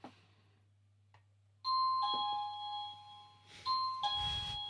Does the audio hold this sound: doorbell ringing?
yes